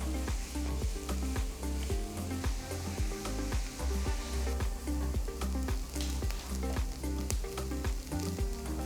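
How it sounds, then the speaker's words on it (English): Finely chopped onions sauteing in melted unsalted butter and oil in a pan, a constant close sizzle and crackle with regular scraping knocks of a utensil stirring, music playing underneath. "add 3 large onions finely chopped and saute until they turn golden and"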